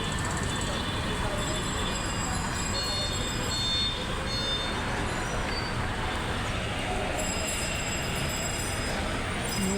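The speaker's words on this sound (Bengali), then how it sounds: "ওই যে ট্রেন থেমে রয়েছে, এই জায়গাতে ট্রেন স্লো করা যায়" A train on a railway line near Shahjahanpur gives a steady, loud rumble of wheels and carriages, with faint high metallic squeals running through it for the whole stretch.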